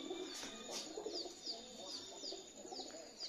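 Pigeons cooing in a morning home setting, several soft repeated coos and calls at moderate distance, steady throughout with faint background ambience and no talk.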